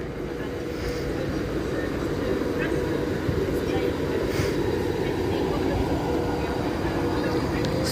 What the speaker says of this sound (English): It's Pendolino that I went to London on.